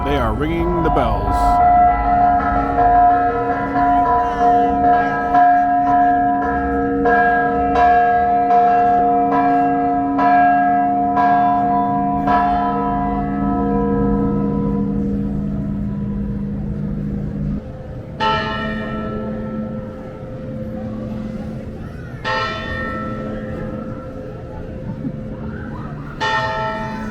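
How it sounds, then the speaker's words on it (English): Church bells ring loudly overhead at a large celebration in Salta, Argentina, with rhythmic peals that fade and then strike again in separate clusters, with some crowd noise beneath. "Oh, they are ringing the bells."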